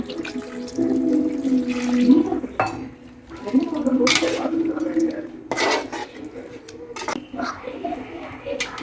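Water is poured into a small cooking pot for a chicken curry, splashing and gurgling against the metal in a few bursts, with clinks of the pot and utensils between pours.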